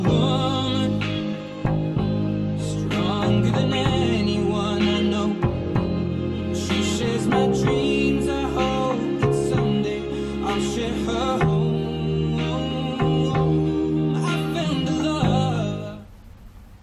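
Bass guitar plays the later-verse line of a song, with steady plucked low notes over a full backing track, close and even in level until it fades at the end.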